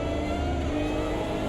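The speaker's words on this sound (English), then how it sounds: "here we've got a Formula car coming up behind us" A Formula car in the Project Cars 2 racing game roars steadily nearby, its engine a loud, sustained high-revving drone over the game's continuous racing noise.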